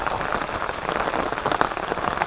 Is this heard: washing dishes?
no